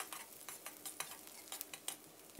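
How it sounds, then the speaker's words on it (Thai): Sliced onion sizzles in a hot pan while a utensil scrapes and stirs in quick, irregular strokes, close and fairly quiet. "ผัดหอมหัวใหญ่ของเราให้แตกกลิ่นหอมเลยครับ"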